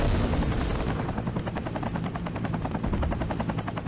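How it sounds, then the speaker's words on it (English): Steady, loud rotor thudding with a rapid rhythmic chop, helicopter noise from the video game MechWarrior 3 filling the scene without pause. "Oh, great. Helicopters."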